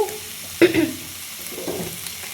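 Crab masala sizzles in a pan after a spoonful of mustard oil goes in, a sudden close hiss and stirring scrape that quickly settles into a faint sizzle, with no voices.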